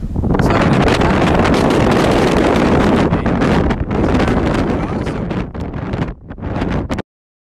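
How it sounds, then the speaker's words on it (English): Strong wind buffeting a cyclist's microphone outdoors on a long ride, a loud, constant roaring rumble with gusting surges that breaks up into choppy bursts before cutting out abruptly. "So I'm crouching out the wind so you can hear me."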